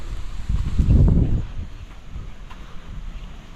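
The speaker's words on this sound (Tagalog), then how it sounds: "buti mahangin kahit na medyo mainit mahangin" Steady wind rushes and buffets across the microphone in an open field, swelling to a louder gust near the start before settling into a low continuous blow.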